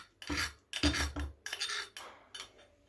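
Crushed cashew nuts are scraped from a jar into a bowl with a metal spoon in a home kitchen, giving several short scraping and clinking bursts with brief pauses between them.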